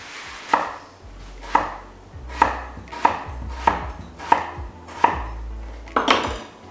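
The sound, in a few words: knife slicing potatoes for homemade fries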